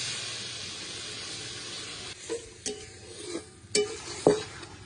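Fried potatoes stirred into spice masala in a pan for a fish egg curry, a soft steady sizzle with a few sharp spoon scrapes and knocks against the pan in the latter half.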